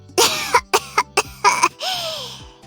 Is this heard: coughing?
yes